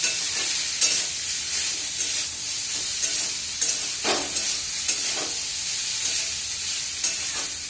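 Cooked rice is stir-fried briskly in a hot pan, giving a continuous loud sizzle with recurring scraping and tossing strikes of the spatula every second or so.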